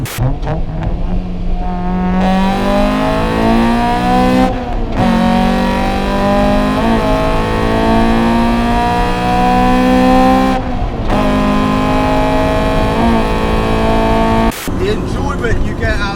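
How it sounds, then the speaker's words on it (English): A Honda CRX VTEC engine revs hard and climbs through second gear, loud and close, with brief drops in pitch between pulls. "We'll do a little second gear pull"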